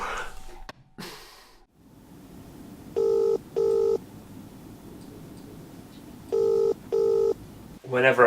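Four short touch-tone dialing beeps in two pairs over a quiet room hum, with a brief voice at the start and end.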